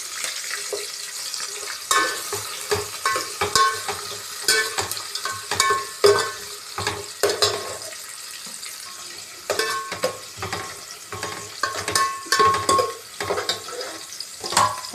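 Onions and green chillies fry and sizzle in a pan for biryani rice while a utensil stirs and scrapes them in repeated close clinking strokes, with no talk.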